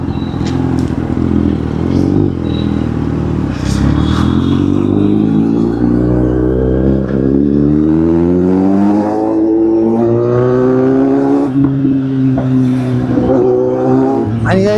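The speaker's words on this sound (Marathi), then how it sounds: "गाडीचा आवाज ऐकायला आहे ना मोस्टली सगळ्यांनाच आवडतं" A car engine revs loudly and steadily up and down close by, its pitch climbing and falling over a long continuous stretch, with brief clatter on top.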